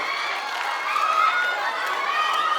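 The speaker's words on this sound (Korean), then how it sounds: "다시 한번 박수 부탁드리겠습니다" A festival crowd at an open-air public radio broadcast concert in Hwaseong applauds and cheers after a surprise K-pop stage, a dense, steady wash of noise that holds loud and even for the whole stretch.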